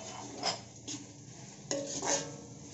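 Carrots, beans and capsicum stir-fried in a pan for homemade egg noodles: spatula scrapes and clanks against the metal over a soft sizzle, in irregular strokes close by.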